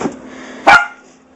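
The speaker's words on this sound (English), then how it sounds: "That's my dog barking." A single sharp dog bark rings out close and loud in a quiet home kitchen, brief and alone against a faint steady hum.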